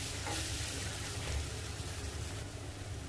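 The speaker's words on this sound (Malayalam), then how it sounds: "പതുക്കെ നമുക്കൊന്ന് ഇളക്കി കൊടുക്കാം." Chicken pieces sizzling as they fry and are stirred in a pan for kanthari chicken, a steady close hiss with soft scraping movements, no talking.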